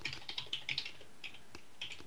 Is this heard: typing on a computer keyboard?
yes